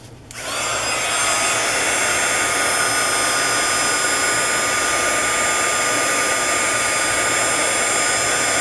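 A heat gun blows air across alcohol ink, starting with a click and then a loud, steady, continuous whirring blast of air that holds unchanged and close to the end.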